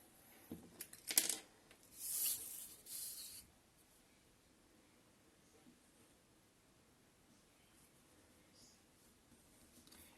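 Paper is cut along printed lines for a kirigami magic ring, giving a few short, quiet scrapes and rubs near the start. After that there is near silence with only faint rustling.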